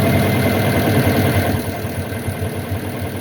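A 2020 Tata truck diesel engine idles at about 600 RPM after fuel pump servicing, a steady, loud low rumble with a faint knocking pulse that eases slightly partway through, with no voices.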